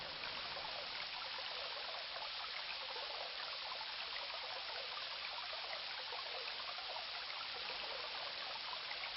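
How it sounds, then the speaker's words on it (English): Steady gurgling stream flowing past a hillside cave on its way to the sea in King's Quest III Redux, a continuous, even wash of trickling water with no other sounds. "A stream gurgles past the cave as it winds its way to the sea."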